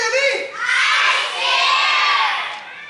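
A crowd of children shouts loudly together in the audience of a winter show at Ouwehands Zoo, the noisy chorus swelling in two surges before easing off.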